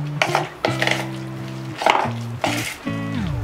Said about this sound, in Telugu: అందుకే మీ తరపున యాడ్ చేసి నేను కలుపుకుంటున్నాను